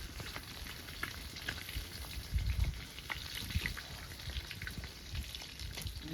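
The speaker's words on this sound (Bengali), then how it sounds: "মাছ একদম কড়া ভাজা দিলাম, বুঝলে বাবু?" Sea red bhola fish frying crisp in a hot pan: a steady, close sizzle with dense crackling spatter and a few louder pops and low bumps partway through, with no voices.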